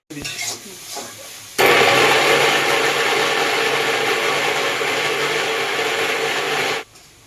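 A mixer grinder grinds spice paste, starting abruptly and running as a steady, loud whirring roar for about five seconds before cutting off, with a few brief knocks just before it starts.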